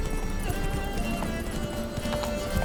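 Hooves of Geralt's horse Roach pound in a fast, rhythmic gallop in The Witcher 3, steady and close with a brief whinny-like tone over the clattering footfalls.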